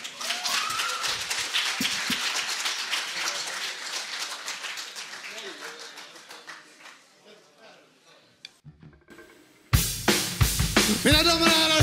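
An audience at a rock festival final claps and applauds loudly and densely, then the applause fades. After a short lull, a loud burst of sound with voices starts.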